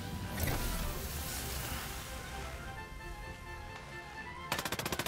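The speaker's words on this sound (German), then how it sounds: "Und da schießt mehr als eine Drohne rein." Drones fire automatic guns in the Ghost Recon Breakpoint video game, a rapid rattling burst at the end that stands out over a dense background of game noise.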